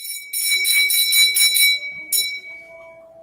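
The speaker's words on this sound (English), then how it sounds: "Ring the bell." A small handbell rings several times in quick succession in a witchcraft ritual, bright and close, its tone sustaining and fading, with a brief second ring later and a faint low tone near the end.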